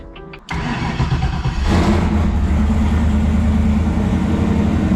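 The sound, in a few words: turbo Camaro engine starting and revving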